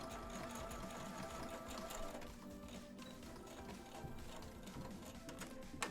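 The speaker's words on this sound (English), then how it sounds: "That's my machine not liking how fast I am pushing the pedal." A sewing machine runs fast under a hard-pressed pedal, a close, continuous rapid mechanical whir and clatter that holds steady throughout with no talking.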